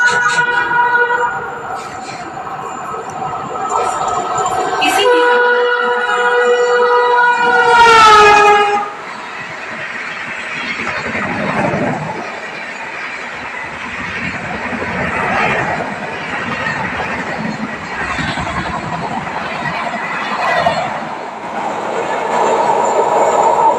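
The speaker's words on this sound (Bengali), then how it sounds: "ওই সাইডের লাইনটাতে ট্রেন বেরিয়ে গেল এক্সপ্রেস" An express train passes on the adjacent track beside a stopped local train. It gives a loud, sustained rumble and clatter of wheels on rails, with a horn blast near the start, and continues steadily at close range throughout.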